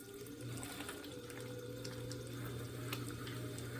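Water running steadily onto clay as it is centered on a spinning pottery wheel, a continuous close trickling wash with a low motor hum underneath throughout.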